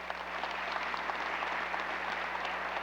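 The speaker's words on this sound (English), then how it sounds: "With your applause, would you please welcome him?" Steady applause from a Veteran's Day audience welcoming Major General Gerald Lang, a dense, even wash of clapping that holds at the same level throughout with no voices over it.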